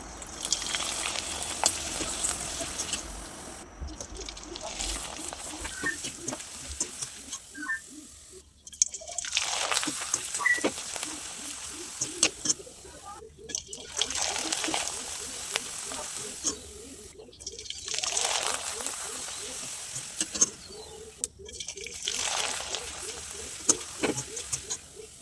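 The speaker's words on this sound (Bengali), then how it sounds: "এখন আমি তেলে পিঠাগুলো ভেজে নিচ্ছি" Rice-flour pithas wrapped in jackfruit leaves fry in oil with a steady bubbling sizzle, broken by several brief pauses and occasional pops, close and continuous throughout.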